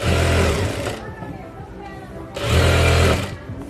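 A sewing machine stitching a blouse runs in two loud, close whirring bursts with a pause between them.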